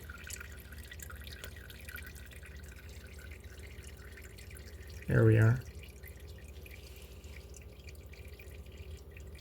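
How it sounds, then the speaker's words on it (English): Transmission fluid dripping from the drain of a Honda Civic, a steady patter of faint drips with someone speaking briefly partway through. "So it'll drip like that for half an hour."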